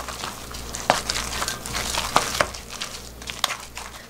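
Boiled potatoes being mixed with about three generous spoonfuls of mayonnaise for potato salad, giving soft, wet, crinkly stirring noises with a few sharper scrapes at an uneven rhythm, close by and with no talking.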